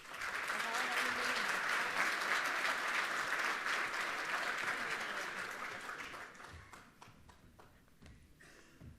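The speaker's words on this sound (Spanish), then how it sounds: "La recibimos con un aplauso" An audience at a forum on responsible energy transition applauds to welcome the ambassador, a loud, full burst of many clapping hands that holds steady, then thins out and fades to scattered claps.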